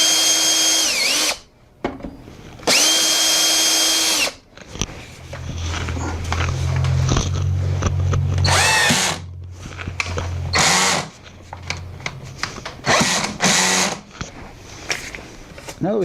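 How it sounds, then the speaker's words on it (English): A power drill fitted with a Vix self-centering bit drills pilot holes through hinge hardware on a weather station door, several loud whirring bursts of rising and falling pitch with brief pauses, close up. "I'm just going to use a Vicks bit in my drill, perfectly center the hole in the hinge."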